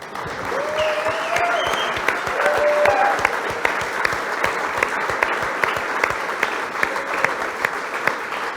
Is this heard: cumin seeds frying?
no